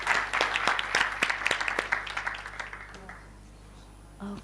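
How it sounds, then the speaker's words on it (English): A crowd claps at a trade forum, a dense, loud round of applause that swells for about two and a half seconds, then thins and fades to a few scattered claps. "A round of applause"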